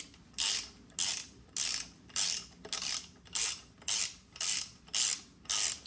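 Fast ratchet clicking while bolts are tightened on an SBC 383 stroker engine during a piston install, in quick repeated bursts of about ten strokes, close and loud with no talk.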